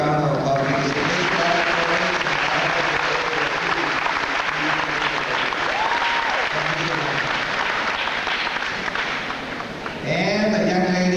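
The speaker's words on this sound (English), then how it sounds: "let's give her a big round of applause" A crowd at a middle school graduation ceremony claps loudly and steadily while a speaker talks over the applause.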